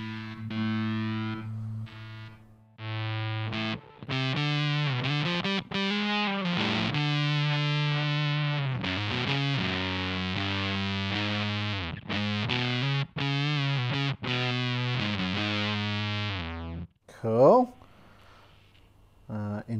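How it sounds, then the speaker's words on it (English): Electric guitar through a gnarly fuzz on a Line 6 HX Effects unit, thick buzzing sustained chords and bends with abrupt stops between phrases, loud and saturated, ending with a brief squealing pitch sweep. "So it's a pretty gnarly sounding fuzz."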